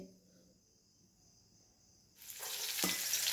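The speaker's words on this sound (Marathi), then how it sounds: "मस्त असा लसूण तेलामध्ये परतून घ्यायचा" Garlic hits hot oil in an iron pan, and after two quiet seconds a loud, bright sizzle bursts in and keeps crackling steadily to the end.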